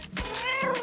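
A cat on an airplane seat lets out a short, close meow, preceded by a brief bump, loud and clear against a quiet background.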